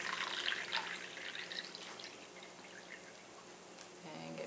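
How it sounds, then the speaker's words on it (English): Water is poured into a container, with trickling and splashing close by that is strongest at the start, thins out in the middle and swells again near the end. "we're going to pour more water into this and not pour it everywhere."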